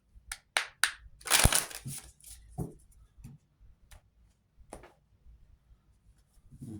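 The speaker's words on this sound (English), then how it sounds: "One more shuffle." Sharp, crisp clattering bursts of tarot cards being shuffled, one strong riffle in the middle followed by scattered lighter taps and snaps, close and without talk.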